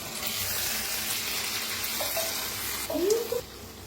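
Cooked stuffed ridge gourd soft and oily in a pan being stirred, with a low steady sizzle and a brief scraping swirl near the end, close and fairly quiet, no talking.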